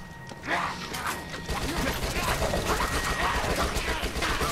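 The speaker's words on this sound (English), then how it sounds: "This is the SMG that we're using here." An SMG in the Dead Nation game fires dense, rapid bursts over a low rumble of continuous action, loud and sustained throughout.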